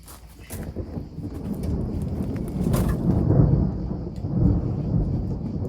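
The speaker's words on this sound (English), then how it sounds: "It's a little bit stormy." Low rolling thunder rumbles continuously nearby in Tuscany, swelling and fading, with light rain patter and a few scattered clicks on top.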